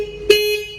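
A single short motorcycle horn toot from a Bajaj Dominar 250 with a steady tonal ring that sustains briefly, then fades under a faint background hum.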